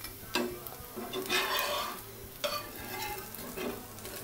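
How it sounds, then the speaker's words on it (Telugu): Soft sizzle of rava dosa crisping on a pan, a low steady frying hiss broken by a few light scraping and tapping touches, close and fairly quiet. "ఇలా చక్కగా దోశ వేగిపోయింది."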